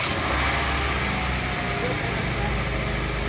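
A car engine, started with a VTOMAN X7 jump starter, runs in a loud, close, steady idle with a rough low drone, and a voice talks partly over it.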